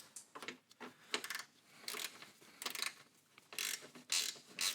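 A ratchet wrench tightens the battery terminal on a 1995-2004 Toyota Tacoma 2.4L, giving repeated bursts of close, crisp clicking with short pauses between strokes.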